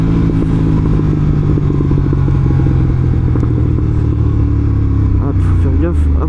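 A motorcycle engine drones steadily throughout a ride, holding a loud, continuous low rumble with light clatter, while voices talk over it.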